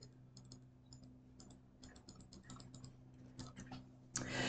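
Light, quiet typing on a computer keyboard sounds as irregular bursts of soft key clicks against a faint steady hum, ending with a louder rustle.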